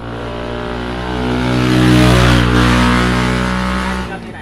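A traffic police car's engine revs close by with a steady harmonic drone. It swells to a peak near the middle and then eases off.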